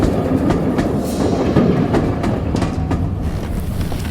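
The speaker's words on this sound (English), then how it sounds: "the train, gathering pace, sped out of the station" A train gathers pace as it pulls out of a station, its wheels clicking in a quickening clickety-clack rhythm under a loud, steady rumble, close and alone.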